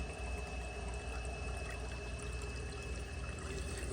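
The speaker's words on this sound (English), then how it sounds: "let it fill up to the overflow tube and then give it a flush there just to see how it does" A 1987 Kilgore Aladdin toilet with its tank filled slightly over the normal level, up to the overflow tube, pours and rushes steadily from start to finish. The water sounds near and continuous, with no talk.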